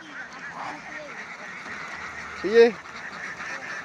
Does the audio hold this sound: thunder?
no